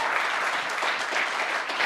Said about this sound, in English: can we give a round of applause for the judges